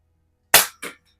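A Rohm Twinmaster Match air pistol fired at a can: one sharp, loud crack followed a split second later by a shorter, quieter second snap, with silence around them.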